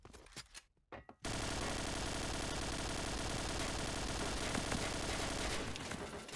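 Dense automatic gunfire from the shooter game Point Blank, fired with an AUG rifle: sustained rapid bursts that start abruptly after a brief quieter opening and hold loud and steady to the end, with no talking.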